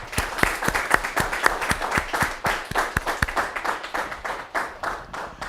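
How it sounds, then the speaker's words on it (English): Audience applause at a Yale panel event, a steady patter of many hands clapping in a room, fairly dense and even throughout, with no one speaking over it. "let's give them a round of applause and welcome them to Yale"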